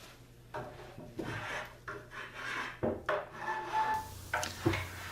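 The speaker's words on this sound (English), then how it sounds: "Put some shadows into it using a rake, little edging rake there" A small edging rake scrapes across the wood of a rustic coat rack to distress it, giving a series of close, rough rasping strokes with brief pauses between them.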